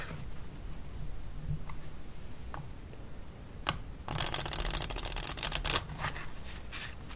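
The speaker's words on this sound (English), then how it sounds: "Alright, let's shuffle these cards up." A few scattered clicks, then a quick riffle of playing cards being shuffled, close by, ending with a couple of soft taps.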